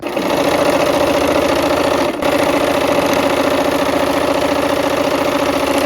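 A sewing machine stitching a seam runs as a continuous, loud mechanical whir with a steady rhythm. It drops out for a split second midway, then carries on alone.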